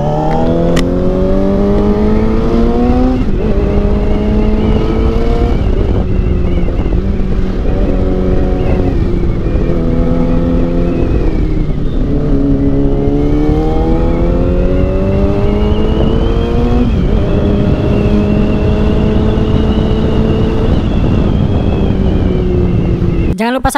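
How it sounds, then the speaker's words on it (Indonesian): A Yamaha motorcycle with a dry clutch rides along, its engine droning loudly with repeated rising and falling revs as it shifts through gears, accompanied by wind buffeting the microphone. "Jarang-jarang loh motor Yamaha dry clutch ya"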